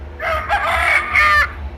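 A rooster crowing plays from an animal sound app, a single loud, close cock-a-doodle-doo lasting over a second with a rising, broken shape.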